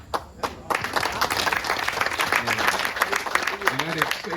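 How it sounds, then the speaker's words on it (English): Audience applause at an outdoor community celebration at a historic farm, a steady wash of clapping under crowd murmur with a voice speaking over it near the end. "And I didn't say that just for y'all to clap for that"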